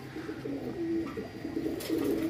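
Pigeons coo softly and steadily nearby, low rolling calls repeating with no talking.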